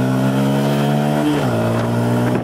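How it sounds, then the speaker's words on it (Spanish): A Bajaj Pulsar P150 motorcycle engine revs hard and pulls away, its pitch climbing then dropping as it shifts gear, loud and close throughout. "Esa moto arranca fuerte."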